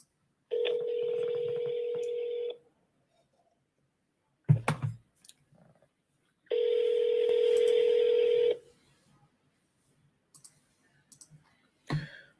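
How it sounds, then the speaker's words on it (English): A phone call placed on speakerphone: two long ringback tones, each about two seconds, separated by a few scattered clicks and faint taps, with a brief knock near the end and no talk. "So let's give them a call and see if they pick up the phone."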